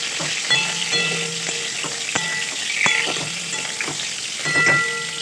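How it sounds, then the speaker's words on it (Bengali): Pointed gourd (potol) pieces frying in mustard oil in a home kitchen, a steady close sizzle punctuated by sharp pops and clicks of stirring throughout, with no talking. "আমি প্রথমে সর্ষে তেলে পটলগুলো একটু লাল লাল করে ভেজে নিচ্ছি"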